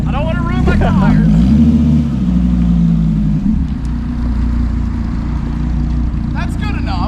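Dodge Viper ACR-E V10 engine droning loud and steady while spinning donuts, the pitch rising and falling through the maneuver, with voices talking over it near the start and end.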